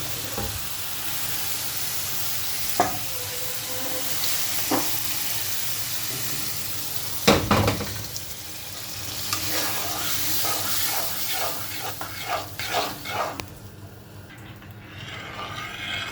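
Lentils for a Bangladeshi hotel-style dal tipped into a hot frying pan, giving a steady sizzle with stirring clatter and a sharp burst of hiss midway, then scraping and crackling toward the end.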